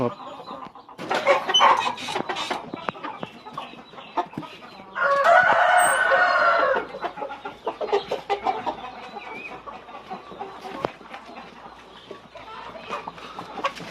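Breeding hens and a stud rooster on a Thai chicken farm, with steady nearby clucking throughout and one loud, sustained crow in the middle. A voice occasionally talks underneath.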